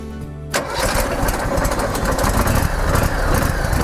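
A small engine on a fire department training truck starts up with a choke and push-button ignition, catching abruptly after a brief hum and settling into a steady, loud, close running drone.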